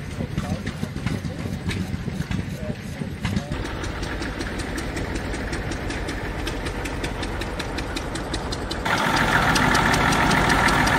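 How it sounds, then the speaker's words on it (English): Old tractors and vintage machines idling at an agricultural show in South Africa, a steady rumbling, knocking engine drone with rapid regular pulses, a louder machine joining near the end, while people talk nearby. "Just listen to all the sounds here of the old tractors idling and all the old machines there at the background."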